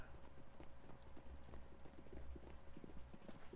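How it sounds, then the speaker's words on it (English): Rapid footsteps sound in a tactical shooter video game, a quick, rhythmic patter of steps at moderate distance, fairly quiet and alone. "I hear a lot of footprints or footsteps."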